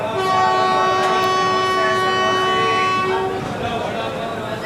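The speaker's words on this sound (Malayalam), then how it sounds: "അത് ഇവർക്ക് സ്റ്റാർട്ടർ കിട്ടിയ ഉടനെ ഒരു ലോങ് ഹോൺ അടിക്കും" A long, steady train horn sounds at departure on the Okha to Kozhikode route, loud and close, holding for about three seconds before fading into rumbling rail noise.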